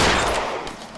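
Short, loud burst of rapid gunfire from the video game L.A. Noire, a dense crack that decays over about a second.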